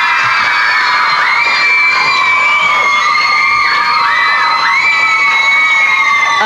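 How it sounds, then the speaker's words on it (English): A 1994 game-show studio audience of children cheers and shouts loudly and steadily, whoops and yells layered over a continuous roar of the crowd. "And don't the crowd love it?"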